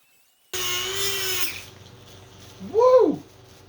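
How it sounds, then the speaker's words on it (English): Drill with a 1/4 inch burr bit hollowing out material, a high whirring burst of about a second close by, followed by quieter handling and a brief squealing sweep. "we're using a 1/4 inch burr bit."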